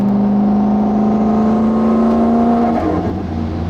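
A car with a Xona 10569 turbo pulls hard from 75 mph in sixth gear at just under 3,000 rpm, its engine a loud, close, steady drone that climbs in pitch as boost builds.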